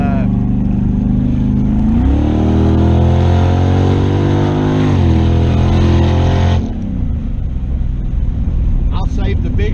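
A Chevrolet Camaro with a 5.3 V8 on a proven cam roars loudly nearby, its revs climbing through gears in rising sweeps before the engine note drops off.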